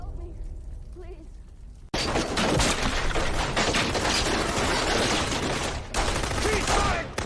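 Rapid gunfire from a film scene bursts in suddenly after a quieter stretch, loud dense volleys of shots continuing to the end, with a voice speaking at the start and shouting amid the firing.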